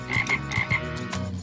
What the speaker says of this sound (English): And a ribbit from a frog just sitting on a log.